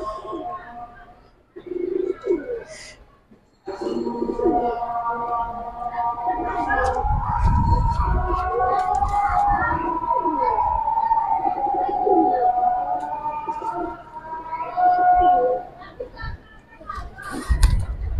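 Silver Gribaz and Bagha pigeons cooing in a loft collection, soft repeated coos and calls close by, with people talking over them for most of the time.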